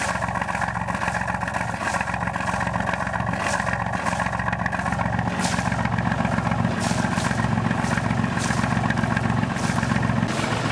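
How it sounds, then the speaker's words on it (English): A boat engine runs steadily at a constant idle, a low throbbing drone with no change in pace throughout. "the best bit of this boat is the engine at the moment."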